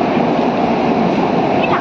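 A Kolkata underground metro train rumbles steadily through a tunnel, a loud continuous roar filling the whole moment without a break.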